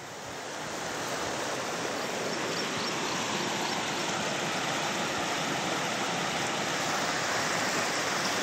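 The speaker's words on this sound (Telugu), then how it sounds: "देखो पानी आ रहा है" Water released from the Salawas Palli Dam rushes in a loud, unbroken roar that builds over the first second and then holds steady, with a broad wind-like hiss and no talk over it.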